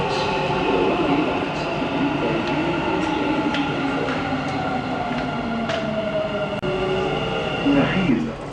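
A Dubai Metro train rumbles steadily into a station, a continuous loud rolling roar with faint wheel squeal and clicks, rising slightly as it slows near the end.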